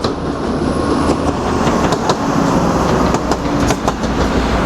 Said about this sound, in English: Departing now is a Northern Trains 195 bound for Blackpool North,